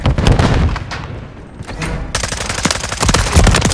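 Bursts of rapid automatic gunfire ring out in a Call of Duty Modern Warfare 3 multiplayer match on the Rust map. Loud, dense volleys come first, thin out briefly in the middle, then resume heavily.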